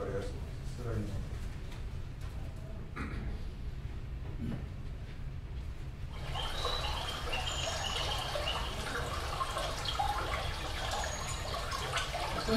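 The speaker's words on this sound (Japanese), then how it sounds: "せせらぎの音なんかやっぱり分かりやすいです。" A recorded babbling stream plays through speakers at an audio demonstration event; after a stretch of talking, broad rushing water noise swells up and continues evenly.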